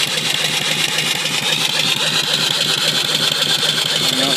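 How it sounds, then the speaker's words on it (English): A steam engine about 30 inches tall with a 3-inch bore and 3-inch stroke drives an alternator for off-grid battery charging, a loud, steady, rapidly chuffing mechanical run with a continuous whine, close by. "Running an alternator."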